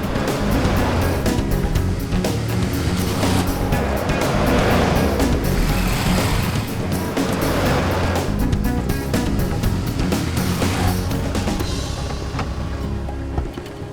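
Steady engine rumble and road noise from a car on the move, loud and continuous throughout, with no speech over it.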